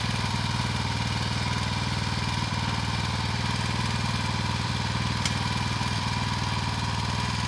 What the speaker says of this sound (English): This tractor, again, is called a BCS walk-behind tractor, or walking tractor.